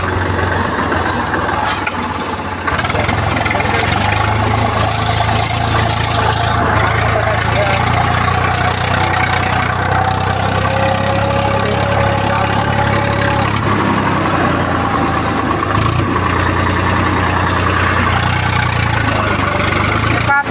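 A tractor engine runs steadily at a loud, close idle with a deep chugging drone throughout, and voices talk over it.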